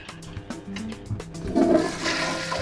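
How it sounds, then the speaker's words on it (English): A toilet flushes in the video game Cook Serve Delicious, a gurgling rush of water that swells midway and drains off, preceded by small clicks and game sounds, with no talking. "Okay then, we get to flush toilets."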